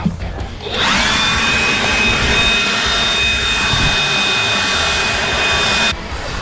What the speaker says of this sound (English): Here's the blower right here.